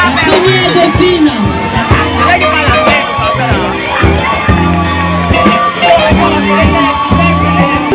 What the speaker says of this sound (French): Est-ce qu'on applaudit pour Mademoiselle Mbengue Zorbo?